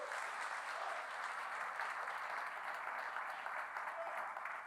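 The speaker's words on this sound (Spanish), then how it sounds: "Dale un aplauso a Dios por su gracia." A church congregation claps together in sustained, even applause during a service, sounding somewhat distant and soft in the hall, with no one speaking over it.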